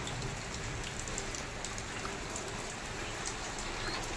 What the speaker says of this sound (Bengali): এখন এই বৃষ্টিটা হওয়াতে একটু ঠান্ডা হলো বাবা, এখন আকাশ ডাকছে।